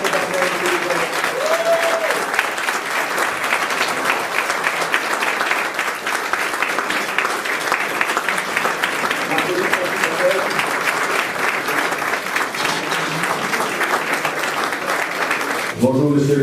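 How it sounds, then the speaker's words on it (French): Sustained applause from an audience greeting arriving officials at a tech event in Cocody, a steady dense clapping crowd with voices talking underneath, continuing for about sixteen seconds before cutting off. "applaudir l'entrée de nos officiels"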